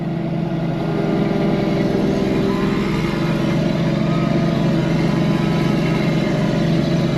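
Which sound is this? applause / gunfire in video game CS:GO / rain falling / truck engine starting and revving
truck engine starting and revving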